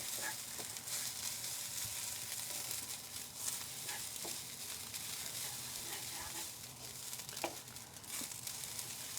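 Rice for fish biryani frying in a pot, a steady bright sizzle with occasional stirring scrapes and small pops, continuous and close.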